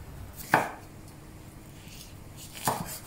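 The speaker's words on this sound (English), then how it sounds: "We also need green chili. I cut it into a few sections." A knife cuts green chili into sections for masoor dal. Two separate crisp chops land a couple of seconds apart against a quiet background.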